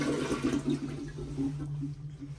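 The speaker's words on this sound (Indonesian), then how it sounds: "kalau mau di flush langsung ya pakai sensor, jadi nggak perlu sentuh apapun" Sensor-activated toilet in a Japanese university restroom flushing, a steady rushing gush of water with a low hum beneath, close by and fading slightly toward the end.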